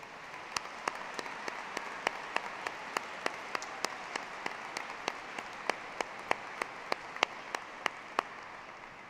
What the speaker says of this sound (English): Please join me in a round of applause to thank our faculty